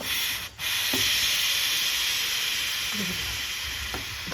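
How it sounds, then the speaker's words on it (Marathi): An electric pressure cooker releases steam in a steady, close hiss as its whistle is lifted, continuing unbroken with faint clicks and no talk. "विसल काढून घ्यायची त्याची म्हणजे वरती करून घ्यायची"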